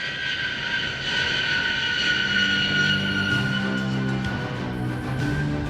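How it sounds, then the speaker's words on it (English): A Lockheed C-5A Galaxy heavy cargo transport at an air show gives a sustained loud jet engine roar with a steady high whine, holding strong and continuous throughout. "The C-5 is a heavy cargo transport."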